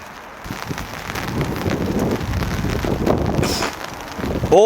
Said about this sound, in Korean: 왜 비가 오는 거야?